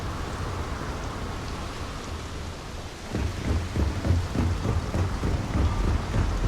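Heavy rain falls around the city of Neon in the video game Starfield, a steady hiss that swells after a few seconds into louder, denser pattering and rumbling, with no voices.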